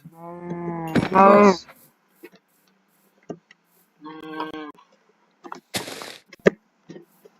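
Two cartoonish cow moos from a game, a long one at the start and a shorter one midway, with faint clicks and a brief noisy burst between.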